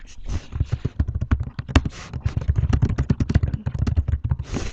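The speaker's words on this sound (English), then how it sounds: "I'm typing in very little text" Rapid typing on a computer keyboard, close and clear, a steady patter of key clicks with one sharper louder strike midway and a few slightly heavier keystrokes near the end, no talking.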